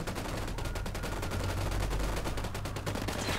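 Rapid automatic gunfire rattles nonstop in the tactical shooter Ghost Recon Wildlands, dense bursts of shots loud and close throughout under a low rumbling background.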